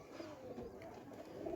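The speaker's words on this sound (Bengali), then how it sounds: "এই কবুতরটা আমরা ধরেছি" A captured migratory pigeon coos softly nearby, low rounded calls under a faint background hum.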